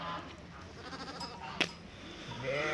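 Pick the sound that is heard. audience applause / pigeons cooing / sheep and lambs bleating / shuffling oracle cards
sheep and lambs bleating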